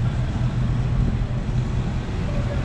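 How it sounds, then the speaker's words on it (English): Vintage cars drive past a harbour parking arcade, a low steady engine rumble mixed with general road noise, continuous and moderately loud. "a couple of vintage cars going by there"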